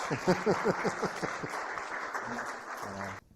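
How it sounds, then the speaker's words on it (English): An audience at a talk claps for about three seconds, the applause steady and moderately loud with a few voices mixed in, before it cuts off. "Please give a big round of applause"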